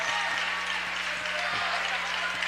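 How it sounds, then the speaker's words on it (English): Crowd applause in a high school gym at a basketball doubleheader honoring Dowling Catholic seniors, a steady dense clapping bed with an announcer's voice continuing over it. "a round of applause for the Dowling seniors"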